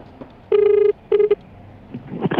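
Touch-tone phone keypad dialing a number for a Joyride motorcycle taxi customer call, two steady beeping tones in quick succession, close and clear, with faint background noise afterward.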